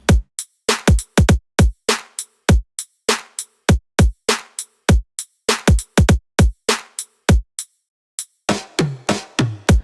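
A punchy electronic funk drum beat with deep kicks and two layered snares repeats steadily, loud and up close, ending in a denser burst of hits.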